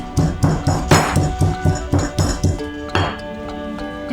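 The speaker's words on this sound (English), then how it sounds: "now let's crush the garlic and the lemon" Four garlic cloves are crushed together with lemon for Egyptian ful medames, giving a series of sharp, ringing, clinking blows in a fairly regular rhythm. The strikes are close and loud, with a final heavier hit.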